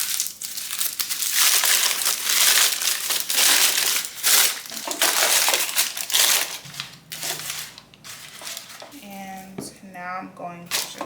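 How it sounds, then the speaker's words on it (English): Parchment paper being crumpled by hand to line a bread pan, loud crinkling and crushing in repeated bursts at close range, followed by a person talking briefly at the end. "Do a little crumple."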